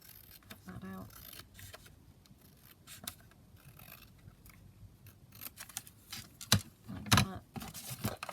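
Scissors snip around a paper journaling card in a few soft close cuts, growing sharper and louder toward the end over a quiet background.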